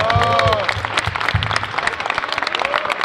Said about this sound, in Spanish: les pido nuevamente un fuerte aplauso para Gabriel